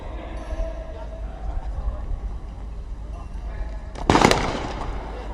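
A single sharp, loud sniper rifle shot at a UAE SWAT Challenge, cracking out near the end over steady outdoor ambient noise and a distant voice.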